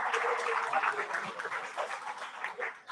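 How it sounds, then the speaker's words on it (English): Audience applause after a dance performance at a Salangai Poojai performing arts event, steady dense clapping from a crowd throughout, fairly loud with a slight fade. "Please give them a round of applause."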